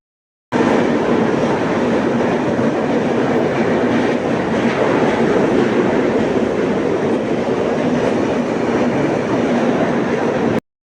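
The Saurashtra Express runs on its way to Gujarat, heard from inside a carriage as a steady, even roar of wheels and rattling. It goes on without a break, no voices are heard, and it stops abruptly at the end.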